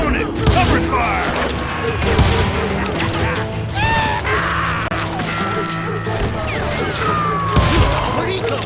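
Covering gunfire in Call of Juarez Gunslinger, repeated loud gunshots with ricochet whines and impacts scattered across the clip, close and busy over game sounds.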